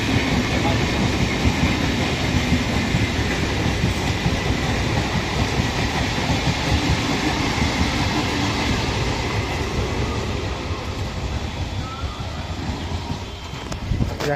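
A train passes through a station with a loud, continuous rumble and rattling of wagons that stays steady and eases slightly toward the end.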